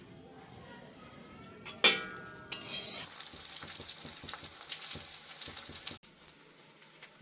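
Vegetables frying and sizzling in a pan with steady stirring, a few sharp clinks of a utensil against the pan, and a busy crackle running throughout at close range.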